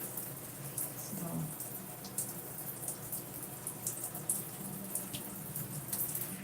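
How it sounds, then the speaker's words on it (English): Shower water running steadily as a constant, fairly faint hiss and spatter, continuous throughout with no clear pauses. "turn the shower off"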